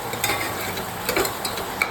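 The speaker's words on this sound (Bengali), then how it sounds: "দেখো হাতা নিয়ে একটু ভালো করে নেড়ে নিচ্ছি" A ladle stirs rice and lentils for a fried-style khichuri in a pan, making close, rhythmic scraping strokes over a constant sizzle, with no voices.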